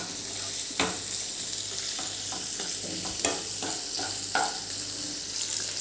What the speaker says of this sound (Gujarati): હવે એને આપણે બેથી ત્રણ મિનિટ સુધી સાંતળીશું ગેસની ફ્લેમ આપણે મીડિયમ જ રાખવાની છે